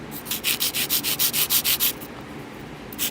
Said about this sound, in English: This is an 80 grit hand file,